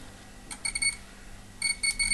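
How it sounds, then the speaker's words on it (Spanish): Continuity tester sounding a steady electronic tone across a bridged cable while a break in the wire is located, two bursts of beeping separated by a short pause, fairly quiet with no talk. "Si el cable inicialmente está comunicado, tenemos que oír el pitido, como estamos oyendo."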